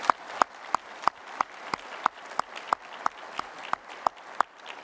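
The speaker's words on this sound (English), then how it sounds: "If you guys could give them a round of applause" A small audience claps in slow, sparse applause for a discussion panel, with a dozen or so distinct, fairly close hand claps at a steady rhythm and no voices over them.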